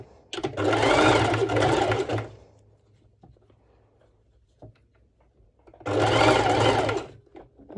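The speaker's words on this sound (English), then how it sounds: "So even my sewing machine needed a little push." A sewing machine stitches over layers of fabric for a crop top in two loud runs of steady whirring, each about two seconds long. A quiet pause with small clicks separates the bursts.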